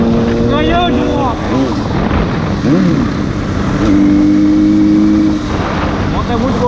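A Yamaha FZ6 motorcycle engine revs and shifts while riding, rising and falling whines up front over heavy wind rush, with a rider's voice in spots.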